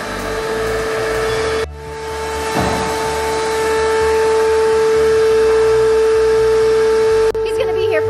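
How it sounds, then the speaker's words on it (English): A vacuum cleaner drones steadily with a constant high whine, running close by throughout with brief dips and clunks. "All right, Parker, there's the vacuum waiting for you."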